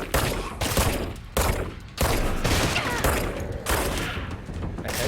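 Rapid bursts of automatic gunfire in the video game Control, several loud dense volleys separated by short gaps, close and aggressive.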